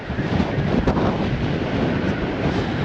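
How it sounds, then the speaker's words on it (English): Strong wind buffets the microphone on Blackpool promenade, a loud, constant, broadband roar with slight gusting swells and no talk. "A couple of signs there wafting about in the wind with it being that strong"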